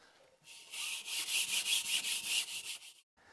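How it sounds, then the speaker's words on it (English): Scuff pad rubbed back and forth across an RV wall surface before tiling, a close run of about a dozen quick, rhythmic abrasive strokes that stops abruptly. "I use a scuff pad like this to scuff the surface so the tile would adhere properly."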